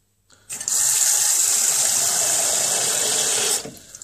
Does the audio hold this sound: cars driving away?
no